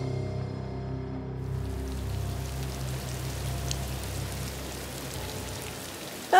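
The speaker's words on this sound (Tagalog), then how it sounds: "Kumulimlim at sumabay ang malakas na buhos ng ulan." Heavy rain pours steadily as a sound effect in a Filipino aswang horror audio drama, a dense continuous wash at constant loudness, with a short louder burst right at the end.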